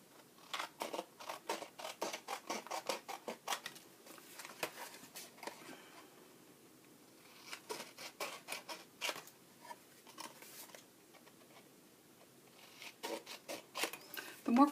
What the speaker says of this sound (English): I'm just going to cut that with my scissors.